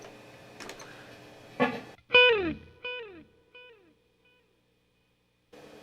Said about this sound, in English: So this delay pedal, just how I adjusted the length in between the echoes. The amount of echoes can also be changed.